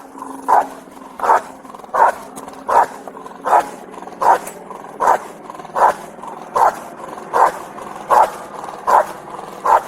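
A police dog barks in a steady, evenly spaced series of about a dozen loud, close barks during a tense armed-suspect standoff, with no voices over it.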